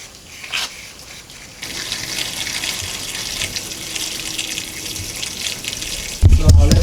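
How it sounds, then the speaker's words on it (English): Running water flushing leftover coolant out of a Proton Inspira / Lancer radiator, a steady rushing stream that grows louder and gushes harder near the end. "it will actually push out all the remaining coolant inside the radiator"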